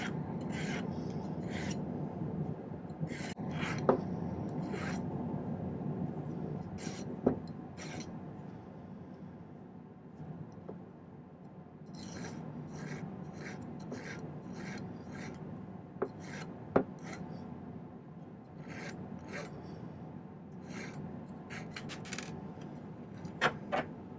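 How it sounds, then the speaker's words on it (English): Silver wire being hand filed to a slight taper, with a steady rasping scrape in repeated strokes. Close and continuous, with a few sharper clicks between passes. "now I'm gonna do a little filing on these to make them taper slightly so they don't just look like square wire"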